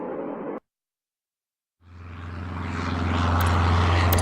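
Game aircraft takes off in a simulated airport: after a short burst of sound and a silent gap, a steady propeller engine drone swells and grows louder toward the end.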